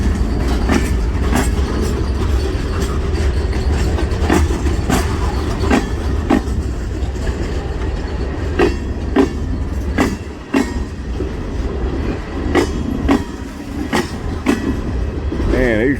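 A New Year's train on the rails at Erwin, a loud continuous rumble with repeated clickety-clack wheel beats on the joints at close range, rolling over coins left on the track.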